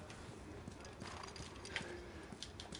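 Horse hooves clip-clopping at a steady walking pace in the video game The Last of Us Part II, fairly faint under a continuous ambient wash with no talk.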